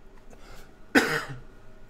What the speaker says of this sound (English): I have been coughing.